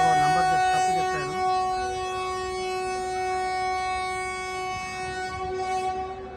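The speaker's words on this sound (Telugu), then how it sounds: "వస్తుంది ట్రైన్ వచ్చేస్తుంది." The Garib Rath Express, train 12739, arrives at a station, its loud, steady horn blaring continuously over the rumble of the approaching locomotive.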